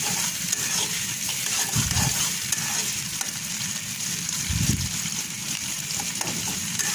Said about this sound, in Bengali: প্রথমে একটা পাত্রের ভিতরে আমি তেল, পেঁয়াজ দিয়ে ভেজে নিচ্ছি।